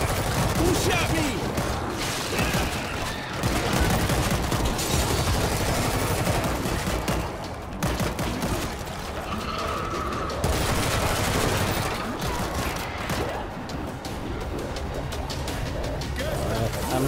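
Dense, continuous gunfire in the video game World War Z, loud and chaotic throughout, with voices talking over the battle.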